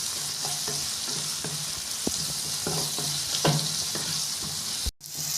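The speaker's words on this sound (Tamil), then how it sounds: "அதை கட் பண்ணிவிட்டு இதை சேர்த்துக்கங்க. நல்லா எண்ணெயிலே வதங்கிட்டுங்க." Tomatoes and onions sautéing in oil, a continuous sizzle broken by repeated stirring clatters of a utensil against the pan, with a brief dropout near the end.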